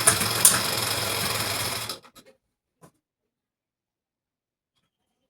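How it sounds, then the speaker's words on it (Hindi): A sewing machine stitching along folded fabric to make an elastic casing, a close steady whirring run for about two seconds that stops, leaving a few faint clicks. "पहले हम इस पे पूरे पे सिलाई लगाएंगे"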